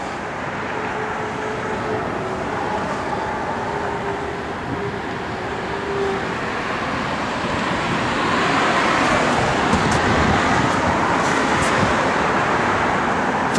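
A 1969 Chevrolet Chevelle SS with a 396 V8 and Muncie four-speed drives along the road, a broad rushing rumble of engine and tyre noise that swells louder in the second half.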